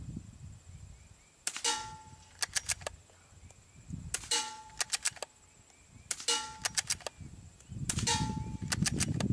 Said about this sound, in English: But listen to how quiet the report is. This is an unsuppressed gun.